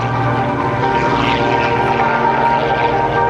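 Loud, close propeller aerobatic airplane roaring continuously through power aerobatics at an Air National Guard open house airshow in Rhode Island, a steady droning engine with no talking.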